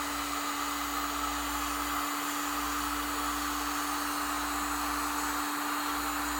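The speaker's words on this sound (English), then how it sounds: "I got my little trusty heat gun here. Just gonna heat up the heat shrink." Small heat gun blowing hot air onto adhesive-filled heat shrink tubing over wires, a constant loud whooshing drone with a steady hum, unbroken and close, no talking.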